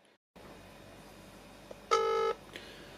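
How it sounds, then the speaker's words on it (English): A Lemfo Android smartwatch placing a phone call: after a brief silence, a faint line hum, then a short dialing tone burst followed by a softer blip, fairly quiet and close. "So we're just making a phone call right now, directly on the watch."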